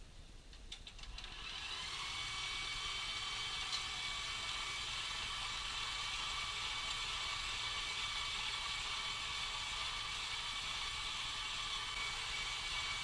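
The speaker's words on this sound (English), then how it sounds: "So I'm just finishing up grinding the meat." An electric meat grinder working through beef chuck starts up with a few clicks, then settles into a steady, close, continuous mechanical whir that holds at constant loudness throughout, with no talk.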